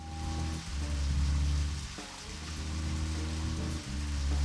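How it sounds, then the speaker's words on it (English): Steady rain patters on a surface in the video game Deadly Premonition: Director's Cut, constant and moderately quiet, with a low droning hum underneath that briefly drops out twice. "Oh, it's starting to rain."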